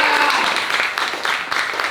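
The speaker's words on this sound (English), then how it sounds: "One more round of applause." Audience applause at a policy panel event, a short steady burst of clapping with voices mixed into the crowd noise.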